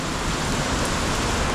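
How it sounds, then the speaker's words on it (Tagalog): Heavy afternoon rain pours steadily at a gas station near Banaue, a dense, loud, unbroken hiss of drops drumming on surfaces close by, with no voices heard. "Lakas ng ulan."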